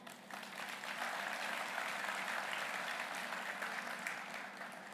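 At a Macon-Bibb County State of the City address, an audience applauds the Cherry Blossom Festival organizer with a sustained, fairly distant wash of clapping that swells and then slowly tapers.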